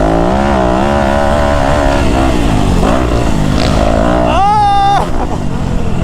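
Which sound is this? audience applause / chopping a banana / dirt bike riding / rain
dirt bike riding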